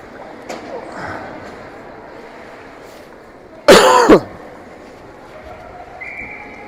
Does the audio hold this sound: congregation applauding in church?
no